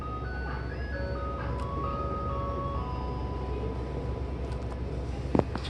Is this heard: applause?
no